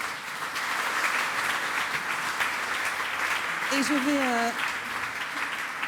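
An audience at a conference on housing and the city claps in sustained, even applause, with a voice speaking briefly over the end.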